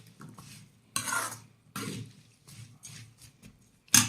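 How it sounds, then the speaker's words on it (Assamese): Garlic chilli pickle being stirred in hot oil in a pan: a few scraping, clinking stirs of a utensil against the pan at irregular intervals, close and moderately loud, ending in one sharper metallic knock. "এতিয়া লাৰিলোঁ অলপ ভালকৈ। অলপ তেলটো গৰম আছে।"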